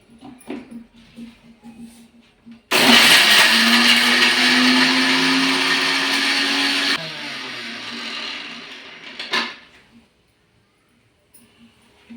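A mixer grinder grinding masala roars loudly for about four seconds, then winds down through a lower whir before stopping into quiet.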